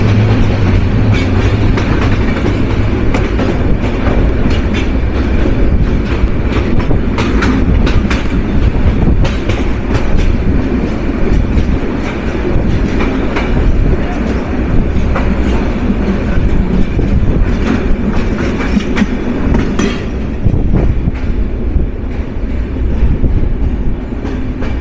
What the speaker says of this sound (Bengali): বড়সড় একটা রেল কার্ভ নিয়ে আন্তনগর পঞ্চগড় এক্সপ্রেস